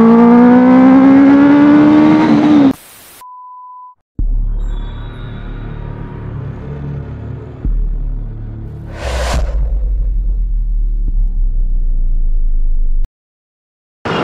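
A Benelli 600i superbike's exhaust opens with a loud, rising rev, then settles into a deep idling rumble that swells again near the end, with a brief hiss cutting through midway.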